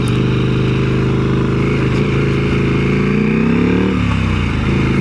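A KTM 890 SMT motorcycle engine runs loud and close, its steady drone dipping and recovering as gears click through, with a brief rev change near the four-second mark.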